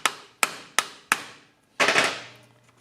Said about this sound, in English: Sometimes you got to take a chisel to spread this apart to get it off easier.